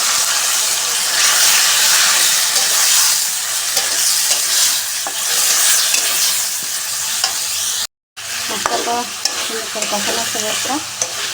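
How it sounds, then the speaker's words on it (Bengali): Onion, chilli, garam masala and bay leaves frying in oil, a loud, continuous close-up sizzle with hiss, briefly cut off, then resuming with clattering stirring strokes over the frying. "মশলাটা সুন্দর ভেজে নেব পেঁয়াজ মরিচ আর গরম মশলাটা"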